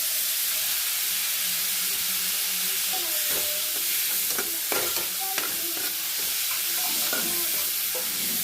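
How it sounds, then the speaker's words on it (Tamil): Tomatoes sautéing for a prawn gravy, a loud continuous sizzle with repeated scraping and stirring strokes of a spatula in the pan, close and without voices. "தக்காளி போட்டுக்கலாம் நல்லா வதக்கிடலாம்"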